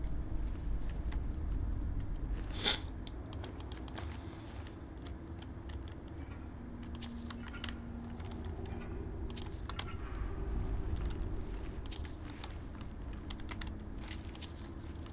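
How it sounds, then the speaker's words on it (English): Computer keyboard keys clank under typing while Skyrim Special Edition is played, scattered bursts of sharp clicks over a quiet background hum. "You may hear the clanking sounds of my keyboard"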